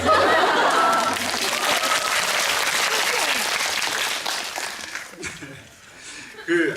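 Audience applause and light laughter at a film screening Q&A (GV), a broad steady clapping wash that thins out near the end with a voice briefly heard.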